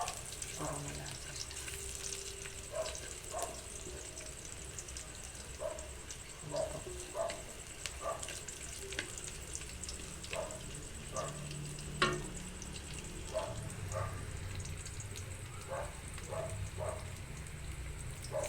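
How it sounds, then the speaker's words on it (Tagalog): Onion and garlic frying in a pan as the base for a crab stick and udon noodle soup, giving a steady crackling sizzle with scattered pops throughout, close and moderately loud, no talking over it. "kailangan natin na medyo mag-brown yung sibuyas at bawang"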